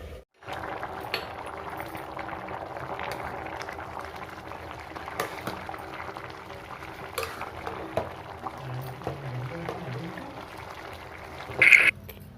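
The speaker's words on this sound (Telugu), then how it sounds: "నీళ్ళు మసిలినాయి కదా, ఇప్పుడు మంచిగా బియ్యం వేసుకున్నాము" Washed rice goes into a pot of salted boiling water for vegetable biryani, with steady bubbling and a few soft splashes and clinks, close and moderately loud.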